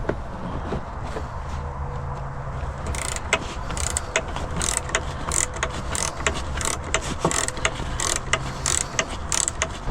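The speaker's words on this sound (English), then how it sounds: "you have to use your Jeep tools that comes with the Jeep, and this ratchet with this Torx" Ratchet with a Torx bit working a small plastic nut on a Jeep Wrangler JL tail light, giving a rapid series of close, crisp clicks over a steady low background, growing busier in the second half.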